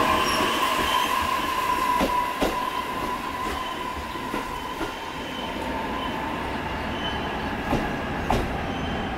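A five-car E531 series electric train runs on the Tohoku Main Line between Kuroiso and Shin-Shirakawa, heard from the cab as a steady close rumble with a sustained motor whine and repeated rail-joint clicks and knocks, without talk.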